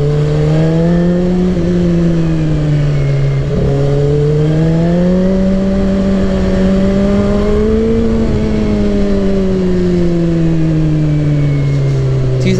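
A 2007 Suzuki GSXR 1000 liter bike engine hums loud and close while riding, its pitch rising and falling as the throttle opens and eases, a strong harmonic whine with road rush underneath.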